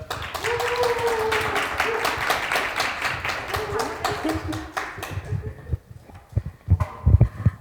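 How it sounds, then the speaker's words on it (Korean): Audience applause welcoming a professor to the stage at a Catholic foundation center's orientation event, sustained dense clapping that tapers off, followed by a few scattered claps and thumps near the end. "큰 박수로 모시겠습니다"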